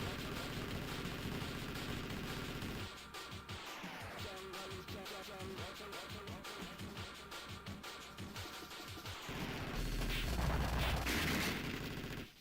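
Rapid missile and shot effects from an old arcade shooter game, dense overlapping bursts with electronic music running throughout, growing louder and harsher near the end.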